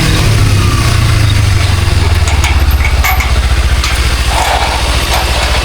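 A motorcycle engine idles close by, a steady low throbbing rumble that holds for several seconds with no voices over it.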